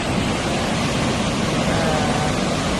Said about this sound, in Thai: ตอนนี้น้ำตกนางรองครับ ช่วงนี้น้ำเยอะเนาะ